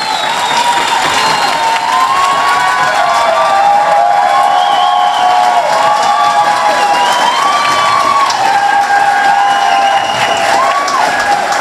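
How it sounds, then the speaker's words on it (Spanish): A crowd at a political assembly of party leaders applauds and cheers for a local councilwoman: dense, continuous clapping and shouting that holds loud for the whole stretch, with whistle-like cries rising above it. "Pido un fuerte aplauso para nuestra regidora actual."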